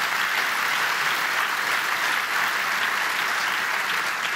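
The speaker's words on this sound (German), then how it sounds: "Ein Applaus." Audience applause at a panel discussion on Gen Z expectations of the working world, a dense, even roar of many hands clapping that holds steady throughout with no voices over it.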